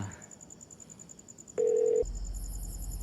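A short steady phone tone sounds, then gives way to a low electronic buzz and a faint high whine on the line.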